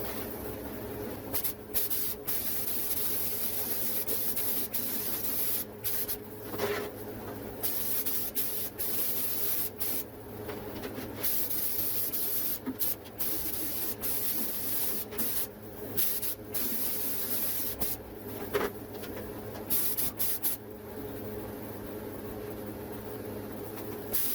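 An aerosol spray can lays a second coat of paint on the fender of a 2001 Chevrolet Silverado 2500 HD under restoration, producing close, loud hissing bursts broken by short pauses between passes.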